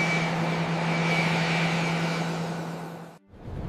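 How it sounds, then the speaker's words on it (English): Jet engines of an Aeroflot airliner at Sheremetyevo Airport roar steadily during takeoff, a loud, dense whine with a constant hum that fades and then cuts off abruptly near the end. "the roar of the engines rumbling beneath your feet"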